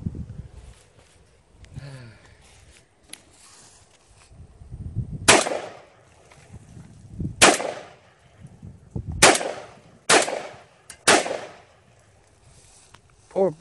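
A Browning A-5 Light Twelve semi-automatic shotgun fires about six loud, sharp shells at irregular intervals outdoors, with quiet stretches between shots.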